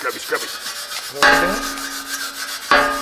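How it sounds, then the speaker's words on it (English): A Scotch-Brite pad scrubs the inside of a metal can in steady, close rasping strokes, with a faint ringing tone from the metal and two sharper scrapes standing out. "I need to get a little Scotch-Brite on this inside part."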